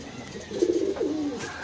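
A Java-line pigeon gives a single soft, low coo, close and clear against a quiet background.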